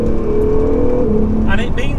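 Honda/Acura NSX hybrid supercar engine accelerates in a loud, near, rising tonal drone, with a shift in pitch midway and a brief higher whine near the end.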